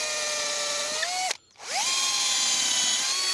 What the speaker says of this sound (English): just get a 1/4 inch drill bit and drill in